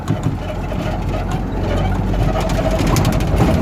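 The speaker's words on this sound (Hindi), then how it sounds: "आवाज़ साफ नहीं आ रही होगी क्योंकि गाड़ी जो चल रही है" A truck engine rumbles steadily from inside the cab while driving along a rough road, a continuous low drone with rattling and knocking textures throughout.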